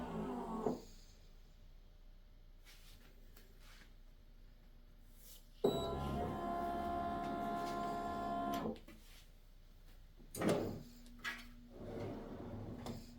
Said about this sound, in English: that drawer opens super easily too, which is nice